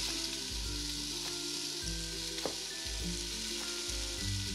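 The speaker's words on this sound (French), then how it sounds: "je vais faire revenir l'oignon" Onion, daikon and mushrooms sautéing in oil for slow-cooker beef osso buco, a continuous close sizzle with a few soft stirring scrapes at regular intervals.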